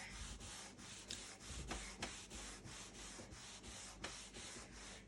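A cloth wipes hemp salve furniture wax onto a wood surface in quiet, rhythmic back-and-forth rubbing strokes, close up, roughly two to three passes per second with no talking.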